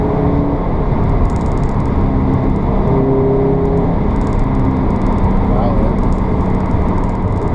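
A 2018 Subaru BRZ tS sports car being driven gently to break it in, its steady engine and road drone loud and continuous throughout with a few faint high ticks above.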